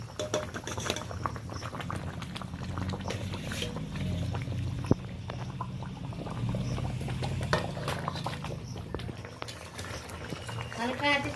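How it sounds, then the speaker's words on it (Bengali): A pomfret fish curry bubbling in a pot, a low steady boil with small pops and occasional utensil clinks, a voice talking over it throughout. "এই দেখুন বন্ধুরা তরকারিটা বেশ ভালোভাবে ফুটে গেছে"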